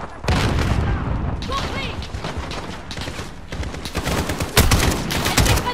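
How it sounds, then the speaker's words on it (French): A grenade goes off in Call of Duty: Modern Warfare amid loud, dense game gunfire, with rapid bursts and booming blasts. A heavier hit lands near the end, and no voices come through. "Je lance une grenade là-bas et ça explose ici"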